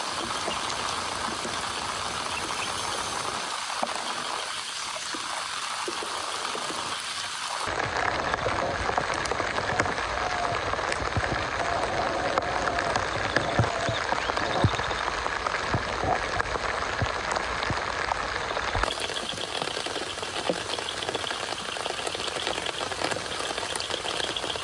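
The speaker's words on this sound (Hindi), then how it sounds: "क्या बारिश भाई, क्या बारिश" Heavy rain pours steadily and loudly on a campsite near a deep forest, a dense hiss of drops drumming on surfaces with no pause.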